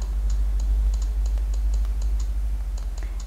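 Typing on a Samsung Galaxy Note Pro 12.2 tablet keyboard, a string of light, fairly even taps at a steady rhythm over a constant low hum, close and moderately quiet.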